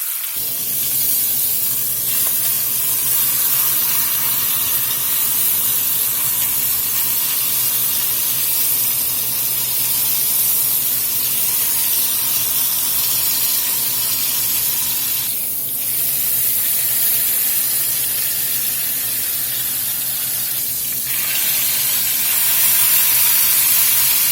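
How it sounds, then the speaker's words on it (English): Beef chuck roast sears in a hot pot for pot roast, giving a steady, loud, close hiss and sizzle that runs unbroken for the whole stretch with no talking. "We're just going to let that sear there on that side a few minutes, flip it, get some color on both sides."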